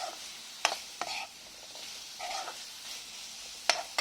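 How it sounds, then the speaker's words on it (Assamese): Fried cauliflower tipped into a pan for a gravy, giving soft sizzling with a few sharp clinks and stirring scrapes, close and fairly quiet. "ফ্ৰাই কৰি থোৱা ফুলকবিখিনি দি দিম"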